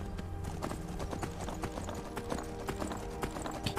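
Rapid hoofbeats of a galloping horse in Skyrim pound steadily throughout, mixed with game background sound and faint rumbling.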